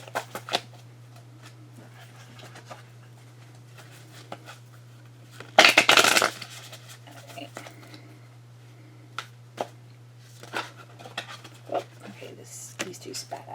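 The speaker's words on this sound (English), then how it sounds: "Get you shuffled." Tarot clarification cards get shuffled by hand, with one loud riffling burst in the middle and scattered soft card snaps and taps before and after, heard close under a steady low hum.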